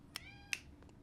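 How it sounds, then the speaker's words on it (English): A domestic cat gives two short high meows, close but quiet, separated by a pause over a low background hum. "My cat is showing so much more passion for Rao than I ever anticipated"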